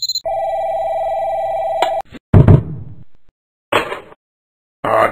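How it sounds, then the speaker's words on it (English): A telephone bell rings steadily for about two seconds, then stops, followed by a few sharp knocks and thumps in a cartoon scene. "answer the damn phone"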